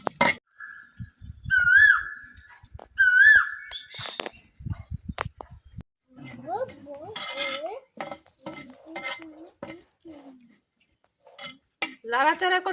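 A spatula or spoon scrapes and clinks against a pan as spices and salt are stirred and fried, in sharp irregular metallic knocks and scrapes, with a voice talking between the strokes.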